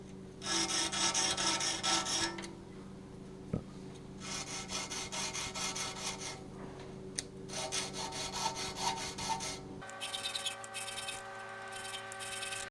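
A hand file rasps across the teeth of a hand saw in steady back-and-forth strokes, close and fairly loud, with short pauses between passes and no talking.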